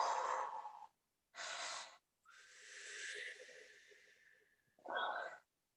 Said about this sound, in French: Et on fait une respiration complète sur un cercle.